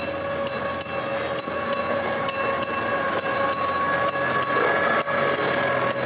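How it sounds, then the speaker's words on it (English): An amusement park train at Europa Park rolls past steadily with rhythmic clicking from the wheels over the rails, constant and fairly close, without any voices. "Hey, and it's the train."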